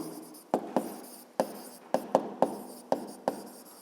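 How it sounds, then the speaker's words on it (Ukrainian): Pen writing by hand on paper for a fifth-grade maths exercise, close scratchy strokes with about ten sharp taps and scrapes in an uneven rhythm. "давайте запишемо це словами"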